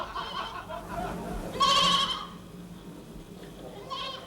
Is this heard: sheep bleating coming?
yes